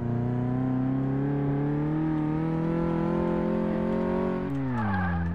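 A car engine in Car Mechanic Simulator 2018 revs in a long rising, sustained tone that climbs slowly, then drops sharply near the end before settling lower, loud and alone.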